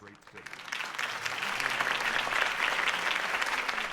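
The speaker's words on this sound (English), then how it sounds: "could have heard that applause" Steady crowd applause in a Batman Telltale video game swells and holds, a dense wash of clapping from many hands that continues without a break.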